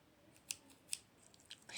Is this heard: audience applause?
no